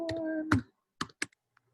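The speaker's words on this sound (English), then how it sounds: "One-handed typing." One-handed typing on a computer keyboard, with a few sparse, separate key clicks heard close up after a brief bit of background sound fades out.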